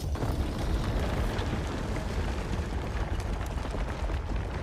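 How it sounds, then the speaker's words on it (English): A player character blasts out of a cannon in the video game Mortal Shell 2, heard as a loud, sustained roaring rush of broadband noise that holds steady without any distinct single boom. "I shoot myself out of the cannon."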